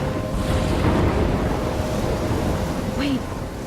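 A thunderstorm rages in Life is Strange: a steady roar of wind and rain runs throughout with a low rumble underneath, and a voice speaks over it.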